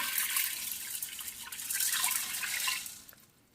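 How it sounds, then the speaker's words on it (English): Water is poured slowly from a tap into an Instant Pot's inner pot, a steady splashing trickle close by for a few seconds before it stops. "I'm going to add the water to about the line that says 3"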